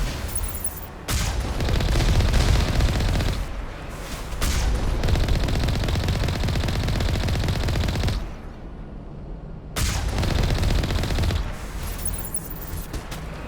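Sustained vehicle turret gunfire in the video game Mass Effect 1 roars in long dense bursts, loud and close, with brief lulls between volleys.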